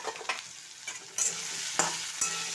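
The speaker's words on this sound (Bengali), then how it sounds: "এবার আলুটাকে একটু ভেজে নেব" Potatoes frying in hot oil in a pan make a steady sizzle, broken by a few louder bursts as they are stirred.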